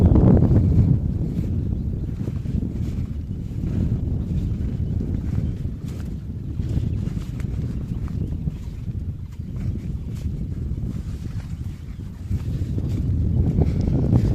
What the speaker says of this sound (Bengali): নদীর ধারে বাতাস অনেক বেশি